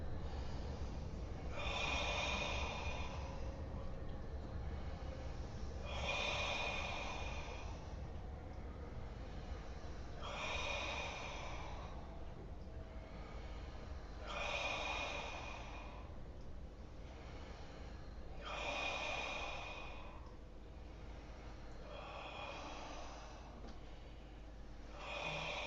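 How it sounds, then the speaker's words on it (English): Slow deep abdominal breaths during a qigong exercise, six long airy inhale-exhale cycles spaced about four seconds apart, close and quiet over a low steady background hum, with no talking. "7 times deep breathing. Abdominal."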